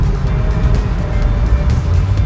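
A 1980s VW Golf Mk2 GTI hot hatch pulls in third gear at part throttle, heard from inside as a loud, steady engine drone with road roar, unbroken by talk.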